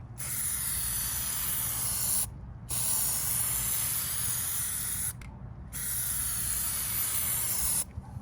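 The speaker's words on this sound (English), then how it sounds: "I'm going to spray a little bit from the top and a little bit from the bottom to get the top edge and the bottom edge" Plasti Dip sprays from an aerosol can onto a Silverado 2500 HD emblem, three long steady hissing bursts separated by short pauses, close and loud.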